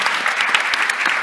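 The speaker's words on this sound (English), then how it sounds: "Round of applause if it was useful." An audience gives a short, brisk burst of applause after a panel talk on blockchain and business, many hands clapping close together for just over a second.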